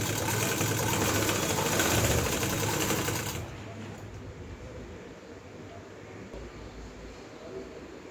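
A sewing machine stitches fine lace onto a garment sleeve, running fast and steady at close range for about three seconds before stopping, leaving a quieter background hum.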